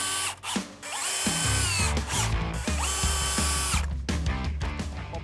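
Power drill driving screws into an American elm log during a slabbing setup, with a loud, steady motor whine that rises and falls in pitch over several bursts, close by and alone.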